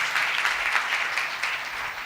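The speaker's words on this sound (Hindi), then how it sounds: "और जोरदार तालियां बजाएं पाक कलाम के लिए।" A church congregation claps loudly in a brief, dense burst of applause for the Bible during a sermon.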